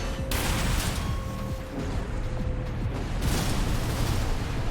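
Mech charge shots firing in the Armored Core VI video game, with heavy booming blasts and rumbling bursts over a dense, loud mechanical background, alongside a brief tonal hum, all sustained throughout.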